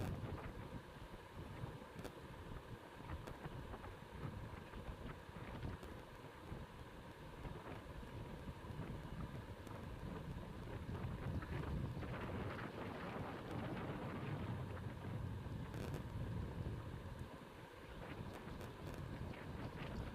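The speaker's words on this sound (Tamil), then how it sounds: "காற்று ஹெவியாக இருக்குங்க" Strong storm wind roars steadily into the microphone, gusting louder midway with rumbling buffeting and no voices.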